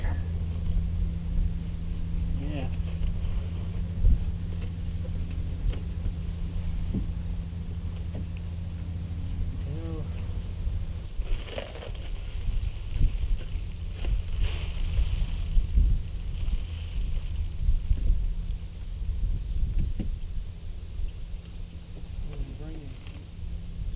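A John Deere 1025R compact tractor engine runs with a steady, low droning hum outdoors, partly buffeted by wind noise across the whole stretch.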